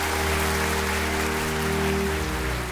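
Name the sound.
audience applause for a contestant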